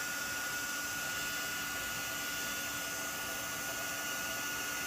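Heat tool blowing steadily and loudly while melting embossing powder during a live craft demonstration, a constant whooshing hum with no pauses and no talking.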